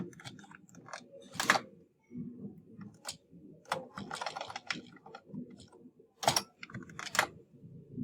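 Typing on a computer keyboard at a desk: irregular bursts of key clicks with a few sharper keystrokes, fairly close and moderately loud, with no voices.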